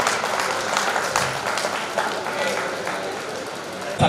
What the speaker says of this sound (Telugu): గట్టిగా చప్పట్లు చప్పట్లు ఫ్రెండ్స్ ప్లీజ్,